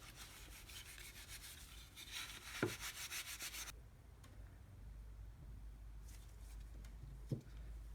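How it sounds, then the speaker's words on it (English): Scrubbing of dirty wooden AK rifle parts such as the handguard, a soft steady rubbing and brushing texture with a couple of sharper knocks, faint and close with no talking. "So I'm just going to continue scrubbing"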